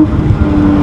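A Nissan GT-R engine running close by with a steady, full low rumble and a sustained tone throughout, no voices over it.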